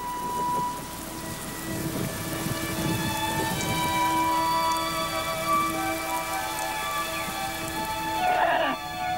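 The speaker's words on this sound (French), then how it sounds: "la saison des pluies arrive sur Copane" Steady, dense rainfall at the Maya site of Copán as the rainy season arrives, hissing continuously at close range with a low rumble beneath and faint tonal sounds in the background.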